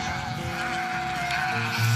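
Two goats bleat close by over a steady background hum, the calls blending with a continuous tonal drone.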